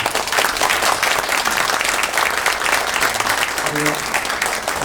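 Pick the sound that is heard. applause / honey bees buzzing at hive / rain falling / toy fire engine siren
applause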